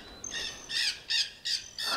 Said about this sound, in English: Those are the parrots.